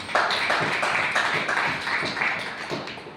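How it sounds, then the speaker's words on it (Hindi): A church congregation clapping together in a steady burst of applause, fairly loud and continuous for a few seconds, with no voices over it. "इस बात पे तालियां हो सकती"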